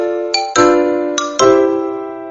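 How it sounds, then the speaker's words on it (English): Bright, bell-like xylophone notes in a children's Mickey Mouse Clubhouse game, four clear struck tones that ring and decay, played alone and close. "Ooh, a xylophone sounds like this."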